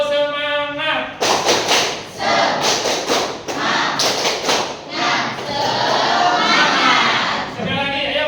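A classroom of students performs the tepuk semangat chant, rhythmic bursts of group clapping and thumping mixed with shouted voices, loud and close, following a single spoken count-in.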